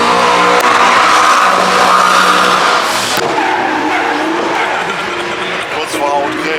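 Cars drift at a German car meet, tires squealing in long loud bursts over revving engines and crowd noise, with a sharp skid sweeping through the middle before the squeals fade.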